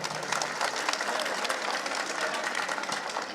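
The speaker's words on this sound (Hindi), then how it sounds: "एक बार जोरदार ताली बजाकर" Dense, steady clapping from a large crowd at a political rally in Okhla, Delhi, continuous and fairly close, with faint voices mixed in.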